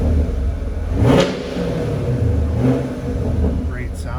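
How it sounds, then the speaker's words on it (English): A 2017 Chevrolet Camaro 2SS convertible in Ice Silver Metallic idles with its exhaust in track mode, giving a deep, loud rumble close by and a sharp rev swelling near the start. Someone speaks over the engine. "So that's the exhaust in track mode."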